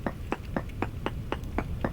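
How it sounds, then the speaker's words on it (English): A hammer breaks chunks of brown coal in the Vintage Story video game, eight evenly spaced, crisp knocking strikes about a quarter second apart, steady and close over a low background rumble. "Yeah, I brought my hammer."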